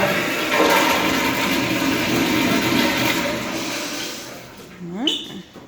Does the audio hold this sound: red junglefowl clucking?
no